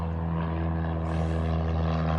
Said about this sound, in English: There's an airplane landing.